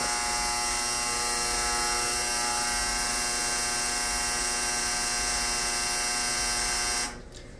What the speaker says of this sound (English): My ignorant dryer is going to do it again.